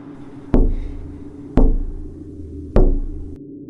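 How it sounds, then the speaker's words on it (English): Three slow, evenly spaced taps strike the glass of a back patio door, each a sharp close knock with a short ring, with quiet pauses between and no voices. "Three slow, rhythmic taps against the glass."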